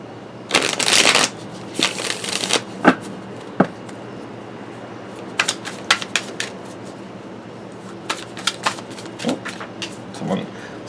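Tarot cards being shuffled: an opening riffle burst followed by a longer run of soft, irregular card slaps and flicks at close range, with brief pauses between handlings.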